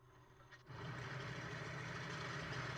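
An A6M5 Zero's engine in Microsoft Flight Simulator coughs to life aboard a carrier after a quiet start, then settles into a steady, rumbling low idle that holds to the end.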